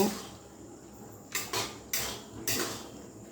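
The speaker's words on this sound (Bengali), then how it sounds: "15 মিনিটের মাঝে আমি ঢাকাটা একবার তুলে নিচ্ছি" Metal lid lifted off a pot of pulao (Bengali white pilaf) cooking on a gas flame, giving several short clattering knocks and scrapes close by against a quiet kitchen background.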